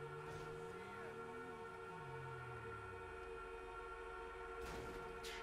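Car horns honk together in the video game GTA V, blending into one long, steady, blaring chord that stays faint throughout, with a few brief sharper bursts near the end.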